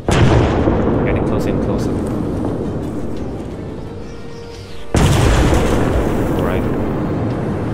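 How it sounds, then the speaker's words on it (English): Artillery shells exploding in ARMA 3, a dense, loud rumbling barrage with a sharp fresh blast about midway, while a person talks over it. "Eventually, the artillery will hit you."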